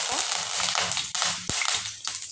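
Mustard seeds and curry leaves crackle and pop in hot oil while a tempering for misal pav is made, a steady close sizzle broken by sharp snaps.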